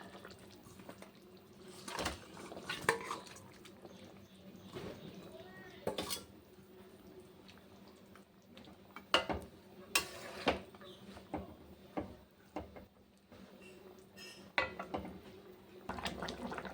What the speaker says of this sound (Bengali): ঝোলটা ফুটে গেছে মাছগুলো দিয়ে দেবো এক এক করে